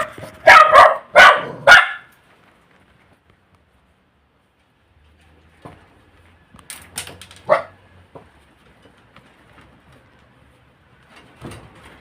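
A few loud, sharp dog barks in quick succession, then silence, followed by scattered quieter barks and yelps further off.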